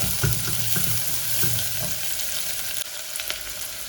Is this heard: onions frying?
yes